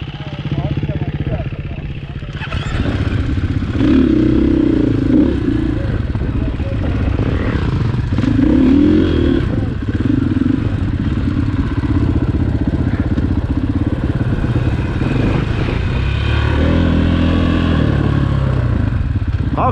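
Enduro motorcycle riding in an open-pit mine, its engine droning and surging loudly with rises in revs, clattering and wind noise, and a person talking over it at times.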